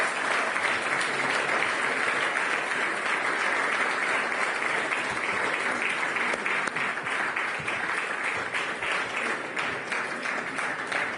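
Audience applause at a central bank forum as the finalists come up to join the stage, a dense, sustained roar of clapping from a large crowd that stays loud and even for the whole stretch.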